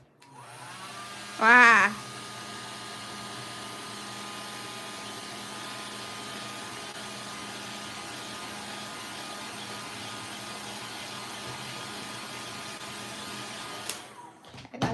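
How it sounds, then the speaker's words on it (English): A hair dryer runs in a steady, even whoosh with a constant whine for the whole stretch, close and moderately loud, with a brief burst of a squealing warbling tone near the start and a spoken exclamation. "if I move the hairdryer faster, then it'll dry fast"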